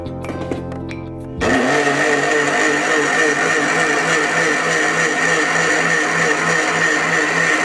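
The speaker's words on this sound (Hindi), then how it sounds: "और फिर हम इसको ब्लेंडर जूसर में डालेंगे।" A blender juicer grinds mint leaves with a glass of water, switching on abruptly after a moment of quiet and then holding a loud, steady whirring roar with a pulsing low motor hum throughout.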